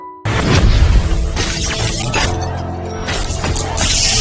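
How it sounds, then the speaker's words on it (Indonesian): A lamp shatters with a loud, sudden crash of breaking glass, followed by a dense, sustained wash of debris and clatter that keeps going for several seconds. "Kemudian lampu pecah."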